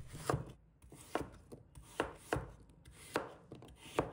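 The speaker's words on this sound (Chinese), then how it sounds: "再准备2个苗条的土豆，把它切成小块" Knife chopping two slender potatoes into small dice on a board, about ten sharp evenly spaced knocks in a steady rhythm, close and clear with no voices.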